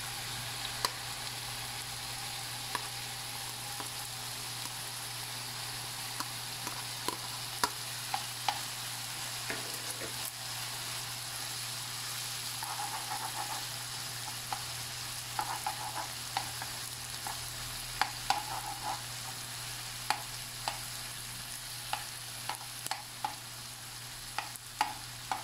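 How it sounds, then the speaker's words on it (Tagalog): Garlic sautéing in a pan as the base for Filipino pork binagoongan, a steady soft sizzle broken by scattered clicks and scrapes of stirring, with no talking. "Igisa natin ang ating bawang."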